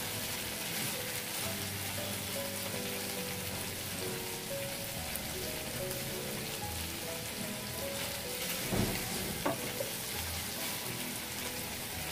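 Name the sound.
potato and cauliflower vegetables frying in pan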